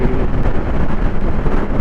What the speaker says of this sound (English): I can't hear anything. Because of the wind, it's windy today.